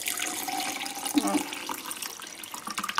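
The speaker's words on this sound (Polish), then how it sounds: "Zaleję sobie ją wodą." Tap water runs steadily into a pot while a mint tea is being prepared, a close splashing stream with a brief spoken word over it.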